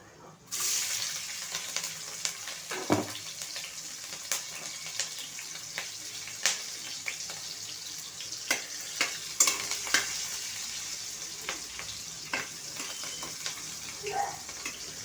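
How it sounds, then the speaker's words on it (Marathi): Crushed garlic and green chilli fry in a pan for methi bhaji, giving a faint, steady sizzle broken by scattered sharp stirring clicks and taps, no talking. "आता आपण ठेचलेलं लसूण आणि हिरवी मिरची टाकूया"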